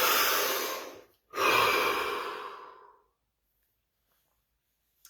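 Two long, deep breaths drawn and released in a quiet room during a guided session, each a soft broadband rush lasting over a second, the second fading out before silence.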